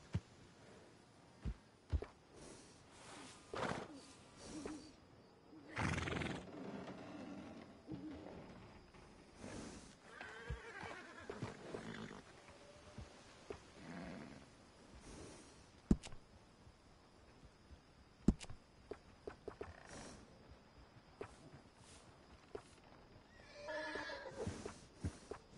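Horses whinny and neigh in Red Dead Redemption 2, several faint calls spread through quiet ambience with occasional hoof clops and soft clatter.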